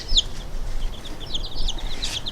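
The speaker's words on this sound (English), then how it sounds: "that's my speckled Sussex" Speckled Sussex hen heard nearby, giving a few soft, scattered clucks and murmurs over a low, steady background rumble.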